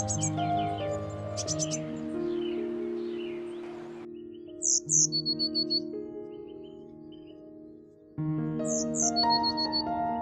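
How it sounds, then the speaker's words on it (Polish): A great tit chases off a smaller blue tit, with sharp, high bursts of chirps and squawks in short clusters. Sustained tonal background sounds run underneath, with a brief quieter gap midway. "I właśnie bogatka, która jest nieznacznie większa od sikory modrej, przegania małą kuzynkę."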